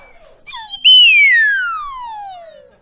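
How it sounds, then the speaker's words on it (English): A single shrill note from a nose whistle swoops in, then glides steadily downward in pitch and fades, after a brief breathy warble at the start. "is called a nose whistle. It's also called a nose flute"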